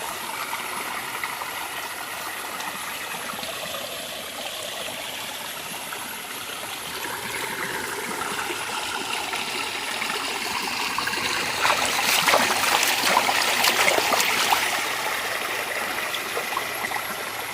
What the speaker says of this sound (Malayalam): ഇതാണ് ഗൈസ് ഞങ്ങളുടെ പറമ്പിലെ അരുവികൾ.